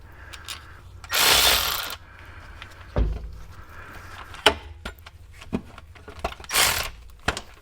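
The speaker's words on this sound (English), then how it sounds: "Now we can put these last 2 bolts in up here." Several short ratchet clicks and bursts while the last bolts are fitted on a Jeep in a home shop, broken up by scattered knocks and handling noises, moderately close with no talk.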